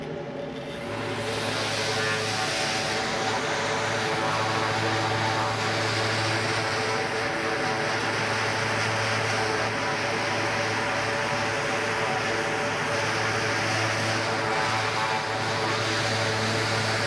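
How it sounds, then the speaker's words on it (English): A sander smooths a laser-engraved piece, giving a loud, close, steady whirring drone that runs unbroken for the whole span with no talking. "I'm gonna hit this with a sander right quick"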